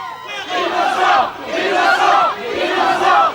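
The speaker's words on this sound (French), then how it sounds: "À l'extérieur, la foule n'a qu'un mot," Crowd outside a courthouse chanting in unison after a guilty verdict, three loud rhythmic bursts of massed shouting in steady succession, close and dominant.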